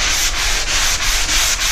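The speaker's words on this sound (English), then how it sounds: "a corner sander. Pick up at your local Home Depot, made by 3M." A 3M angled corner sander scraping over drywall mud in an inside corner of a pantry, a loud, close, continuous gritty rasp pulsing with regular back-and-forth strokes, with no voices.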